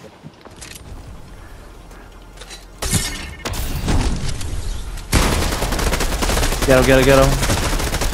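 Gunfire in the Fortnite video game, bursts of rapid shots building in loudness, with a brief shout and in-game effects mixed in.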